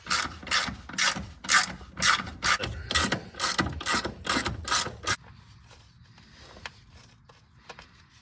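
Ratchet wrench loosening a sway bar bolt on a Porsche 911, about a dozen rhythmic, close, loud clicking bursts over five seconds, then quieter workshop handling noise.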